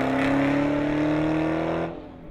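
A 2015 Dodge Challenger SRT Hellcat with a 707 hp engine, held under throttle in a loud steady droning roar that climbs slightly in pitch and then drops off sharply as the throttle is lifted, heard alone with no talk.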